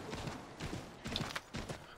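Faint rhythmic hoofbeats of a galloping horse in Assassin's Creed 3, a quick repeating beat under a soft wash of background noise.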